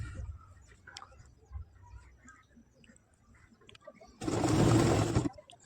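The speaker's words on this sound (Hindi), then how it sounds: "चारों तरफ इस तरह से सफाई के साथ सिलाई मारना है।" A sewing machine stitches an Arabic kalidar jubba, running in one short, close burst of about a second near the end after a quiet stretch with faint ticks.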